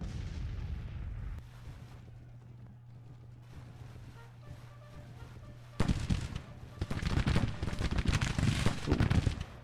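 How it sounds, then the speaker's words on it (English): Long range rifle fire from Civil War infantry in Grand Tactician, rolling out as distant crackling volleys over a low hum that swell to dense, loud rattling fire later on. "Long range fire from our rifle armed infantry."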